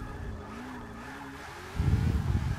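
A Ford Mustang drifting in the Forza 6 racing game hums along with a steady engine tone, then grows louder and rougher partway through as the engine note deepens with tire noise.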